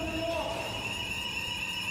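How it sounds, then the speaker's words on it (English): A steady electronic alarm tone rings continuously in a smoke-filled basement beside a boiler room in a live-action FMV video game, sustained and fairly loud over low background rumble. "Heading back to the lower ground, we hear an alarm."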